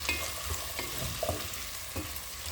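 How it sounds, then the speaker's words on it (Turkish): Chopped peppers go into tomatoes frying in a pan, bringing a dense, even sizzle with a few soft stirring movements, close and continuous. "Kestiğimiz biberleri atalım."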